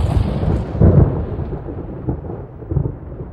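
Deep rolling thunder from lightning strikes in a storm, a loud low rumble with a heavier swell near the start that slowly fades, as a rain-like hiss sits beneath.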